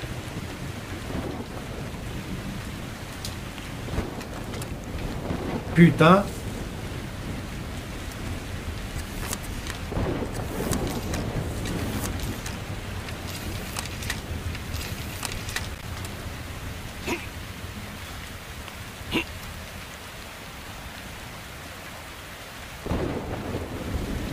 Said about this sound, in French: Ah la vache, il y a des orages.